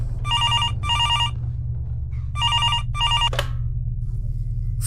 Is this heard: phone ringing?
yes